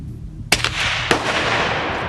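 A pellet fired using a .22 nail gun blank, one sharp loud report followed by a second crack about half a second later, each trailing into a broad hissy decay, close to the listener, no speech.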